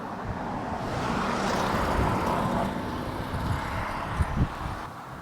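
Car driving past on a road at a river bridge over the Great Ouse at Radwell, Bedfordshire, a broad steady roadway rumble that swells and fades as the vehicle passes fairly close, with no talk.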